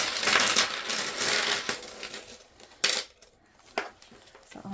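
Coins spill out of a purse in a noisy metallic cascade, first a dense jangling rush, then scattered single clinks and small bursts that trail off.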